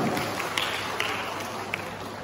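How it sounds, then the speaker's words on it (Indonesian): An audience claps during the prize announcements of a junior high school English speech competition. The applause is a steady, moderately loud wash that runs throughout, with a few sharper claps standing out. "Kita berikan tepuk tangan"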